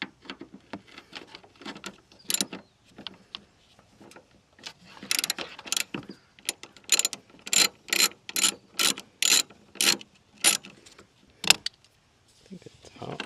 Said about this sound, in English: Down here we're going to have to remove this 13mm bolt which holds in the battery hold down.